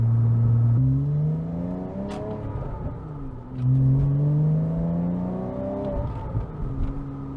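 A 3.4-liter boxer engine in a 2007 Porsche Cayman S with a six-speed manual rises in two strong revving pulls, dropping between gear changes, heard from inside the car on a rainy drive.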